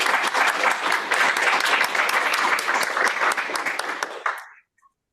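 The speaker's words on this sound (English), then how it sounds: "final thank you and round of applause to our speakers." An audience at a seminar on weight stigma in health policy gives its speakers a final round of applause, a full, steady clapping that tapers off and stops abruptly into silence.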